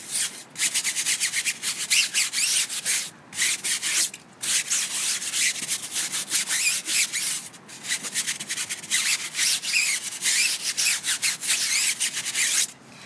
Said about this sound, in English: So once again, I'm just gonna scrub it really aggressively.